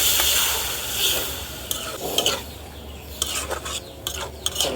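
Potatoes sautéing in a pan at an outdoor village cooking spot: a soft sizzle under repeated scraping strokes of a spatula or spoon against the metal, close and fairly loud.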